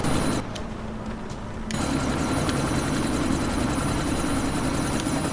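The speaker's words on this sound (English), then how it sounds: "Disable the chopper." A helicopter in the video game Deus Ex: Mankind Divided drones with a loud, steady rotor roar, dipping briefly before returning at full strength.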